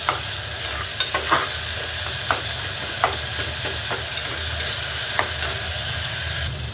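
Chopped tomatoes sizzle in hot ghee with a pinch of salt while a spoon stirs them, a soft continuous frying hiss broken by occasional clinks and scrapes against the pan, with no one talking.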